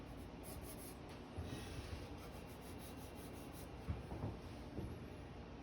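A pencil shades on paper with the side of its lead while sketching a Herman Miller scissors chair, a faint continuous scratchy rubbing with a few brief stronger strokes.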